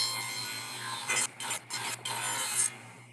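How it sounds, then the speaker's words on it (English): A table saw cuts a groove in wood, its blade whining steadily while the workpiece is pushed through in several rasping passes with brief pauses between them. "Now I need to make a groove in here that's 1 3/8 inches, but I don't wanna do that with my table saw."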